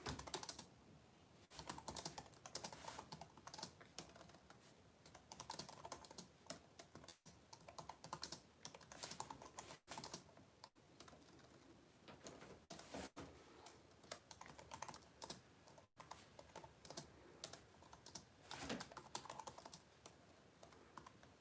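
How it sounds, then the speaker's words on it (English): Rapid typing on a computer keyboard, steady bursts of close, crisp key clicks with a few brief pauses, quiet and alone without talk. "I'm typing, everyone."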